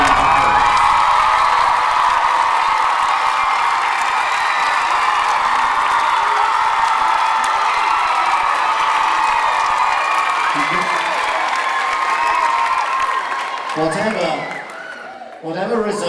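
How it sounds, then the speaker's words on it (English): Audience applause and cheering fill a school house music competition hall, a loud, sustained crowd roar with whoops that holds steady before thinning out near the end. "they deserve a round of applause."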